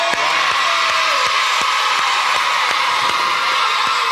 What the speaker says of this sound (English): round of applause for those guys.